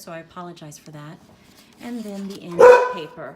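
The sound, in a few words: excited dog barking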